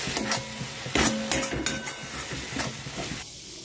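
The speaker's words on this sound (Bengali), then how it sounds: "সব উপকরণ দিয়ে দিয়েছি, এবার ভালো করে শুধু ভাজতে থাকবো।" Chopped snake gourd fried dry with sesame, chilli, turmeric, cumin and salt sizzles in a pan, while a spatula scrapes and taps the metal in several close strokes, with no talk.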